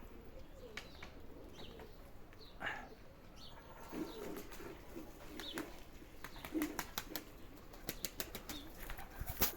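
Pigeons flapping their wings in repeated bursts of fluttering, mostly faint and somewhat distant, with soft cooing and outdoor background noise.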